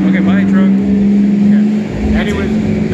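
A truck drives past with a steady, rumbling engine drone that holds loud and close throughout, while a voice talks over it.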